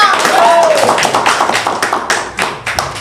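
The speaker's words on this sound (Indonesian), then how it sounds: "Oke, tepuk tangan buat komunitas Popang." A small group at a pop-punk community gathering claps, giving a string of sharp, close, uneven hand claps that gradually thin out, with a voice talking over the start.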